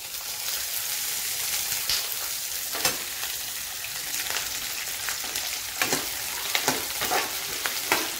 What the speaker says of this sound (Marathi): हे कांदे आपल्याला तेलामध्ये शिजवून घ्यायचे पूर्ण काळे होईपर्यंत, त्यामुळे मी तेल टाकते।